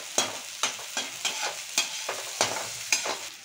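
Slit green chillies sizzle in hot oil in a pan, a close, crackling fry broken by roughly nine sharp stirring scrapes at an uneven rhythm, with no talking.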